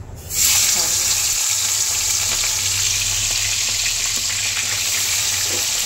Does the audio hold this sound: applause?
no